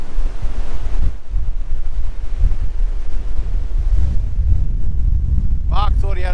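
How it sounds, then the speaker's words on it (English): Strong wind whipping sand across a remote beach in southeastern Western Australia: loud, continuous buffeting roar with gusts, close to the microphone, and a brief voice near the end. "I don't know if you can see the sand there, but it's just whipping through. The wind's quite strong."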